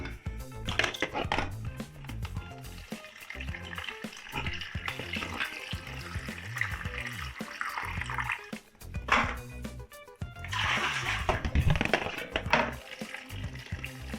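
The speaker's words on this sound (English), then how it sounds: "So you kind of control the flow of the rest of the water coming out." Water from a toilet tank gushes and gurgles steadily as it drains out, with uneven splashing surges and a few faint knocks underneath.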